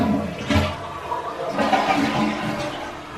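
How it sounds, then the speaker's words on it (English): A toilet flushing in a home bathroom during a plumbing check, a loud rushing swirl of water that surges and continues steadily through the few seconds, close by with no talking. "you want to make sure that all the faucets work and all the toilets flush"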